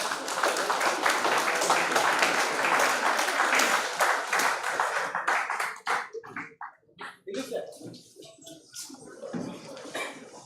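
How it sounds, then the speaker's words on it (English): At a university project expo's valedictory programme, an audience claps loudly and densely for a chief guest, then the applause thins into scattered individual claps before fading out, with voices audible as it dies down. "Please give a huge round of applause and welcome him."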